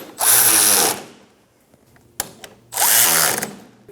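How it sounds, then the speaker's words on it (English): Two bursts of a power tool snugging up strut bolts on an Audi Q5 during front ball joint replacement, each about a second long and loud, separated by a quiet gap with light clicks. "Let's go ahead and snug those bolts up."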